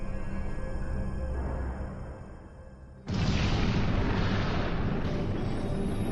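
A deep cinematic boom representing the Big Bang erupts abruptly after a low rumbling swell, then roars on loud and sustained with a broad rushing texture.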